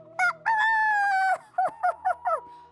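A rooster crows loudly and close in a Korean radio comedy skit: one long drawn-out crow, then a run of short clucking calls, with no talking over it.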